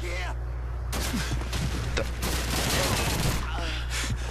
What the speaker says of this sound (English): Alright, grenade.